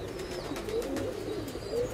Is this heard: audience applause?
no